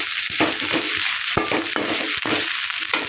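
Dried fish fries in hot oil over lowered heat, a dense, close crackling sizzle with scattered sharp pops and occasional scrapes of a stirring spoon, no voices.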